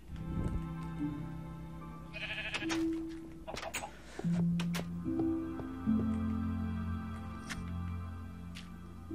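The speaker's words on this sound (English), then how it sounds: "Why is there a sheep down here?" Sheep in the video game Minecraft bleat several times, moderately close, with game sound effects in between and no speech.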